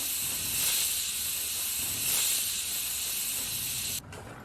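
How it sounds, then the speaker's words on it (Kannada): A pressure cooker cooking moong dal whistles, releasing a loud, continuous hiss of steam that swells twice, then cuts off abruptly to a quieter background. "ಕುಕ್ಕರ್ ಮುಚ್ಚಳನ ಮುಚ್ಚಿಬಿಟ್ಟು ಮೂರು ವಿಜಲ್ ಬರೋವರೆಗೂ ನಾನು ಇದನ್ನು ಕೂಗಿಸ್ಕೋತೀನಿ"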